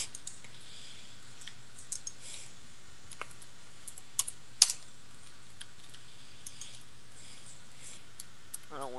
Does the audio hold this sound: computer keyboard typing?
yes